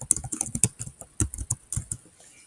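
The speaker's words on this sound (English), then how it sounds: "So we'll type periodic table" Typing on a computer keyboard to enter a quiz search, heard as a quick run of close, crisp key clicks in an irregular rhythm with no voices.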